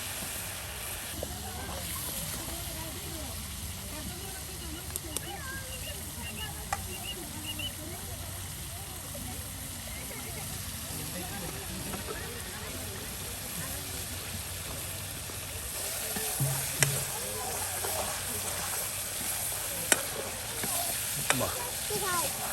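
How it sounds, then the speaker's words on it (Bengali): Chicken with spices and salt being sautéed and stirred in a pan over a village cooking fire, a steady low sizzle with occasional scraping stirs and a few sharper clinks near the end, under intermittent talk. "একদম সুন্দর করে কিন্তু এই যে আপনার মাংসটা কষিয়ে নেওয়া হচ্ছে।"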